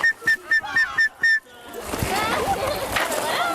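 A PE teacher blows several short whistle blasts in a gym class, evenly spaced, followed by a burst of splashing, echoing activity and background noise.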